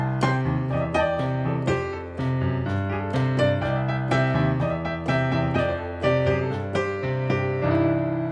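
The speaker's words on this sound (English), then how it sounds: "I call this the root 5 harmony technique," Piano playing a root-five harmony pattern over a major blues scale, a lively run of rhythmic chords and melody notes struck in quick succession, loud, close and alone without any voice.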